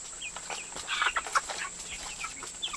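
Ranger chickens cluck softly in a few short bursts over steady outdoor homestead background noise, with a faint high whine running throughout.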